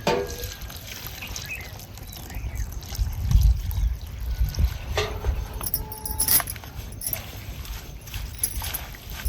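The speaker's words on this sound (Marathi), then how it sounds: "भाजी नाही दोन पाण्याने धुवून घ्यायची" Pathari bhaji leafy greens being washed in a vessel of water, giving a steady close wet rustling and sloshing with a few heavier splashes midway and no talking.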